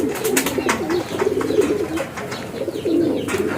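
Racing pigeons arriving at the loft during a pooling race coo repeatedly in soft, low, rolling calls. The cooing sits against a busy background of rustling and activity nearby.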